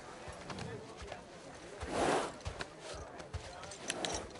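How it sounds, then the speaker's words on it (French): Horse hooves clip-clop softly in The Last of Us Part II, a few light, uneven footfalls at moderate distance mixed with rustling and faint game ambience while a voice talks over them. "Ça, c'est un bon cheval."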